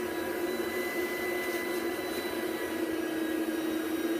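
A Rainbow vacuum cleaner runs steadily with a constant motor whine and airy rush, close and loud, holding unchanged throughout with no talk.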